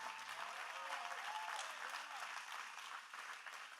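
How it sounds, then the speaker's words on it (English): Audience clapping at a wellness rally, a steady dense wash of many hands, moderately faint and fairly distant, sustained without a break. "Clap your hands if you believe in breaking beyond."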